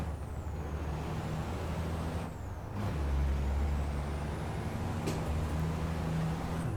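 Truck air brakes in the Truck Racing Championship video game let out a loud pneumatic hiss and release over a steady heavy diesel engine drone, with no voices heard.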